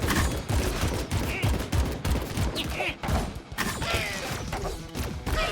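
In the video game Ak-Xolotl, an enemy sprays homing bullets in a dense, continuous barrage of rapid shots and impacts, loud and unbroken throughout.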